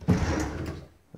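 A kitchen cabinet drawer slides open or shut in a house, one short close rumbling slide with a soft thump, then a small knock near the end.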